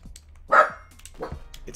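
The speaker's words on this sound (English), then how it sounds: "And now Charlie is barking." A dog indoors in a living room barks once sharply at close range, followed by softer yips and whimpers, with a faint voice in the background.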